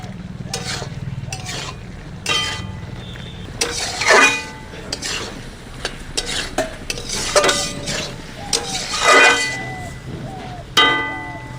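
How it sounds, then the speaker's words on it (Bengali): Ginger and cumin paste sautéing in a pan for a fish curry with tomato and potato, a constant sizzle broken by repeated scraping stirs and clinks of a utensil against the pan, fairly close. "এবারে সবকিছু ভালো করে কষিয়ে নেব।"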